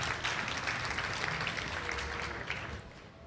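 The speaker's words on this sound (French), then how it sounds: "Mathilde Delaunay de Radio VL, je vous demande de l'applaudir." An audience applauds a young radio columnist at a French radio talent final, a steady dense clapping that fills the whole stretch at a moderate level and tapers slightly near the end.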